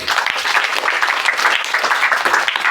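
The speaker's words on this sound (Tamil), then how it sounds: "கைதட்டுங்களாரும்." Audience applause at a student talk on habits, a dense, steady wash of many hands clapping that fills the whole stretch loudly and evenly, with no speech over it.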